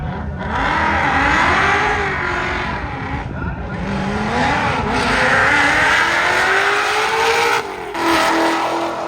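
A race car engine at a roll racing event revs hard and loud in rising and falling sweeps, dropping briefly between pulls and climbing again, with a voice talking over the roar.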